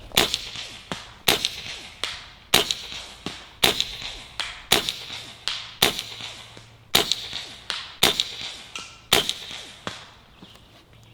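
A .22 Beeman Chief II air rifle fires pellets at soda cans, giving about ten sharp, close cracks at a steady pace of roughly one per second. Each crack is followed by a short decaying tail, with no talk.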